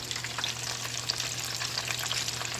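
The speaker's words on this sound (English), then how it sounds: "I can hear a popping sound" Breaded chicken strips, thin pieces, frying steadily in hot oil, with a continuous dense sizzle and scattered sharp pops; a low steady hum sits underneath, and no one speaks.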